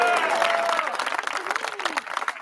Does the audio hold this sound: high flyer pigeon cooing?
no